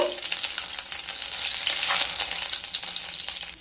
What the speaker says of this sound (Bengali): তেলের মধ্যে দুটো শুকনো লঙ্কা দুটো তেজপাতা এক চামচ পাঁচফোড়ন